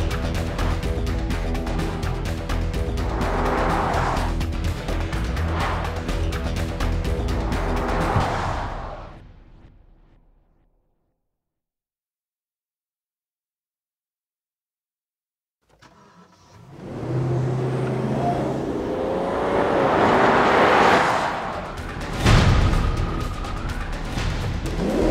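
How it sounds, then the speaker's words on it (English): A modern Rolls-Royce engine growls as the car passes on a racetrack, loud and close for several seconds before fading to complete silence, then swelling back in with a rising rev and a sharp peak near the end. "a lovely growl from the engine"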